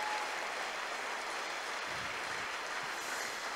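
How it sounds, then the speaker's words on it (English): Sustained applause from an audience at a spoken-word poetry reading in Liverpool, a steady dense wash of clapping throughout with no gaps. "I've already got a clap out of it, so it's fine."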